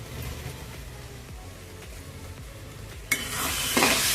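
Chicken liver sautéing in a pan for a spiced semi-gravy with pepper and coriander: a low, steady sizzle with faint stirring scrapes, then a sudden brighter, louder hiss near the end.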